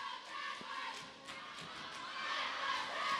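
Crowd at a high school volleyball match yelling and cheering from both sides of the gym, a steady roar of voices with rising swells and no distinct talk.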